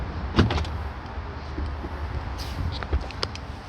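Motorised cover of a storage compartment in a 2024 BMW xDrive40 Sport interior closing by itself after a button press, a soft electric whirr with light clicks and a closing thunk, close and fairly quiet.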